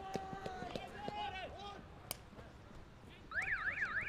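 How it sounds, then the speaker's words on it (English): A match-ending siren wails in a rising and falling pattern at an outdoor schoolboy under-16 field hockey game on an astroturf pitch, sounding clearly near the end after earlier chirping tones, with a commentator talking. "The siren goes."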